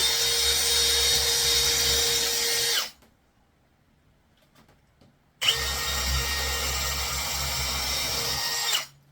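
Power drill boring pilot holes for screws into the wood of a four-foot House Sparrow nest box, two loud sustained bursts of whirring separated by a few seconds of quiet.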